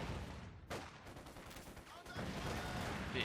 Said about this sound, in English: And Frost is standing about here, ready to fire some assault rifles.